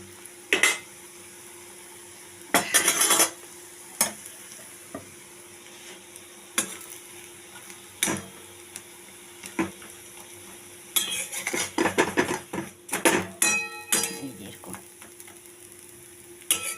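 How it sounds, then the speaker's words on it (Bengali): Stuffed oats pancake frying in a pan, a soft sizzle underneath repeated clinks and scrapes of a spatula pressing it down, with irregular bursts of utensil clatter close by. "দেখুন, এইভাবে আমি চেপে চেপে ভেজে দিচ্ছি।"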